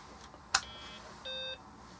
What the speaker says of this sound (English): it still does the boop beep